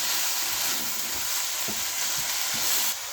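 Tomatoes fry with a soft, steady sizzle in a pan alongside mince preparation, with a few faint stirring scrapes over the hiss and no speech.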